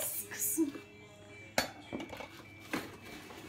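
Metal whisk attachments for a hand mixer clink and rattle as they are handled, a few sharp separate knocks and chinks, close but fairly quiet, with a voice speaking at the start.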